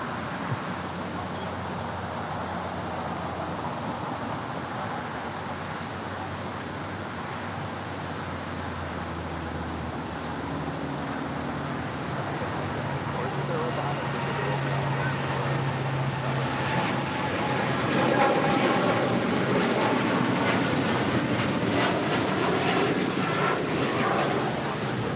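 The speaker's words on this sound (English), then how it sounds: "This is Turkish Airlines Flight 180 taking off to Istanbul on a 787-9 Dreamliner." A Turkish Airlines Boeing 787-9 Dreamliner rolls down runway 25 Right at LAX and takes off for Istanbul, its jet roar building steadily from a distant rumble to a loud, broad climbing thrust that peaks near the end.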